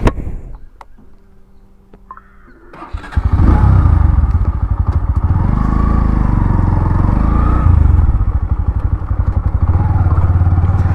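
A motorcycle sets off into a deep forest: after a quiet start, the engine roars up close and loud, then settles into a steady rumbling drive with slight rises and falls in revs.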